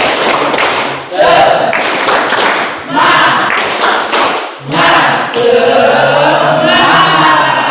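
A class claps a rhythmic spirit cheer in a classroom, loud bursts of clapping in counted groups with children's voices chanting and shouting along throughout.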